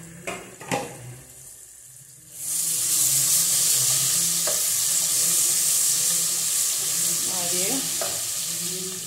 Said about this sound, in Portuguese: Vou dar uma mexidinha pra colocar o sal também.